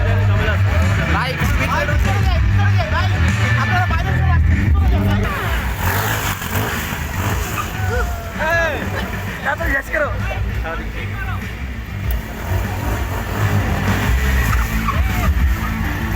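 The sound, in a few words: powerful motorcycle engines revving during stunt show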